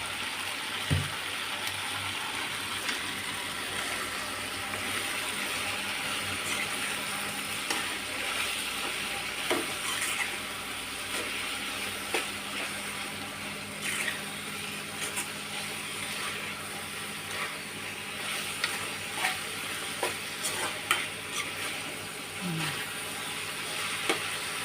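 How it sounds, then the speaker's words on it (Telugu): Tomatoes with salt cooking down in a pan for a fenugreek tomato pachadi produce a continuous close sizzle, broken by intermittent scraping clicks of stirring, with no talking. "టమాటాలు ఇంకా బాగా మగ్గాలి, గుజ్జు గుజ్జు కావాలి. ఇందులో మగ్గడానికి కొంచెం సాల్ట్ వేసుకుందాం."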